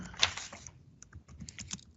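Fingers tap on a computer keyboard in a quick irregular burst of light clicks, one sharper keystroke early, then a pause before a fresh run of quieter taps.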